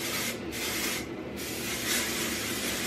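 A travel-size aerosol can sprays onto hair in a steady, close hiss lasting a few seconds, with slight dips in the flow and no talking.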